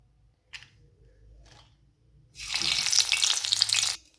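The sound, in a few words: green chillies frying in oil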